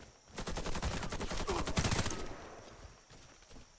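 Rapid automatic gunfire in the video game Warface rattles in dense bursts, with a few scattered single shots trailing off at the end.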